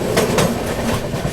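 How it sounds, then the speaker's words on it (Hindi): The Duronto Express rumbles loudly and closely into Surat railway station on a cloudy day, with a steady rolling roar and soft rhythmic clatter from the carriages. "सूरत रेलवे स्टेशन पर अपनी दुरंतो एक्सप्रेस यहाँ पे पहुँच गई है"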